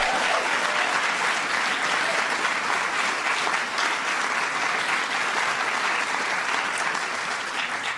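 A large audience at the 2016 Kennedy Center Honors reception applauds steadily and loudly throughout, a dense, even wash of clapping with no talk over it.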